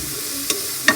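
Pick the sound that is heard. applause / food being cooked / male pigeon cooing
food being cooked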